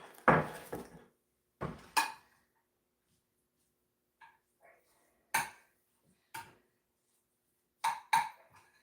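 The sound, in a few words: mixing onions into potatoes in a pan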